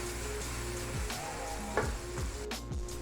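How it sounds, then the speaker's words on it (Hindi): Onions and tomatoes fry in a pan for mutton pulao, giving a steady close sizzle with a few faint clinks, and no talking. "इसको भी इसके साथ फ्राई कर लेती हूँ।"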